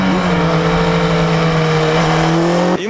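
Older racing motorbikes scream past on a circuit, a loud steady high-revving engine whine with a clear pitch shift near the end as a bike passes close by.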